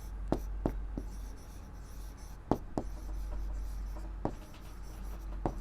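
Factors of 36 are handwritten during a maths lesson, with soft scratching strokes and several sharp taps as the pen meets the surface, against a steady low background hum.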